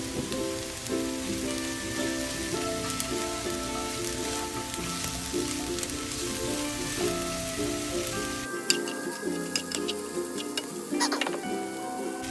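A noodle stir fry with greens and soy sauce hisses and sizzles in the pan as it is stirred, a constant crackling fizz with small scraping taps from the utensil.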